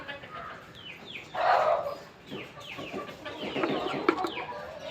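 Young chickens and hens at a backyard coop cluck and chirp in short, uneven bursts close by, with scattered calls overlapping and faint farmyard background noise.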